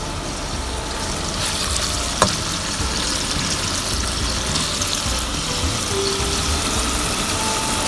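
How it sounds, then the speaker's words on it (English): Cubes of paneer fry in a pan, giving a steady, close, moderately loud sizzle and crackle of hot oil that holds evenly throughout, with a single brief clink partway through. "This is frying nicely."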